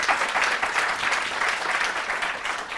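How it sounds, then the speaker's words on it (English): Conference audience at Posisjonskonferansen 2022 applauding after a panel discussion, a steady wash of many hands clapping throughout, moderately loud with no voices. "A round of applause."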